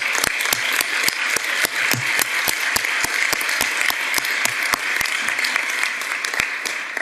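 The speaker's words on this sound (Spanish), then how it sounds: "yo pediría un aplauso para Isabel, ¿verdad?" A crowd at a women jurists' summit claps steadily and warmly, many hands producing a dense, even applause that continues throughout with crisp individual claps standing out.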